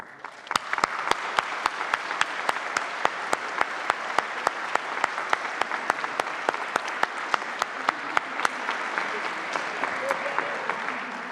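A live audience at a games industry panel breaks into sustained applause: dense, steady clapping from many hands fills the room for about eleven seconds and tapers slightly at the end.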